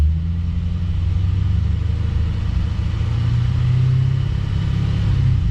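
A 2017 Chevy SS with an LS3 V8 holds a steady, loud, low rumble, idling or held at slightly raised RPM throughout with no sharp revs and no talking.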